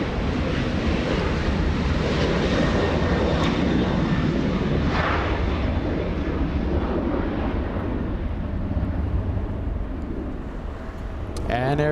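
Engines of a Delta Boeing 737-900 airliner at Los Angeles International Airport give a steady, loud jet roar under wind noise, holding level and fading slightly near the end.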